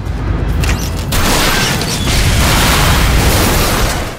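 A car blown up by gunfire in an action film, a loud, sustained explosive roar with rumbling and crashing debris filling the whole stretch.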